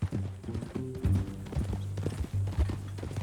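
Horse hooves clip-clopping on a ranch, a steady run of muffled, fairly close footfalls with low thuds and no talking.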